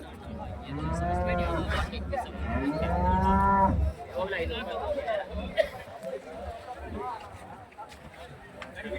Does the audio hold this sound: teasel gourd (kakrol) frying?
no